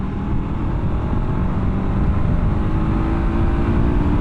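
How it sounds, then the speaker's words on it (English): A 2024 KTM 1290 Super Adventure R motorcycle on 50/50 tires runs with a steady, loud engine drone close to the rider, holding a constant throttle with no voices. "this engine is one of the best motorcycle engines I've ever experienced"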